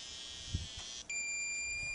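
A satellite dish alignment meter emits a steady, faint high-pitched electronic tone that abruptly shifts to a different pitch about halfway through, with a soft knock near the start and no speech.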